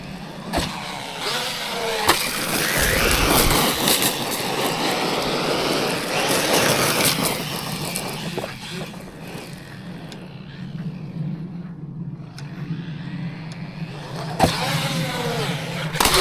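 Traxxas Maxx V2 RC car driving, its electric motor whining and tires rumbling at varying pitch as it speeds up and slows, with faint talk in the background.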